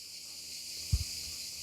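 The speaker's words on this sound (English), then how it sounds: "we know it's hot when the cicadas are singing" A steady high-pitched drone of cicadas fills the hot air on Kefalonia, Greece, continuously, with a brief soft low thump partway through and no voices.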